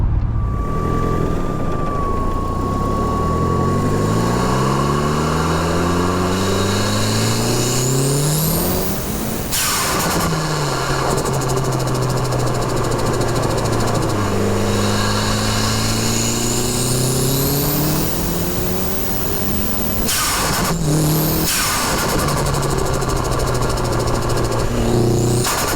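A Nissan 240SX turbo engine revving hard at 20 psi boost, loud and close, with repeated rising and falling sweeps, high whistling spool and sharp cutoffs between pulls.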